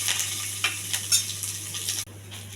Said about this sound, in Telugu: జీలకర్ర, ఆవాలు, ఉల్లిపాయ, కరివేపాకు, పచ్చిమిర్చి ఇవి కొంచెం దోరగా వేయించాలి.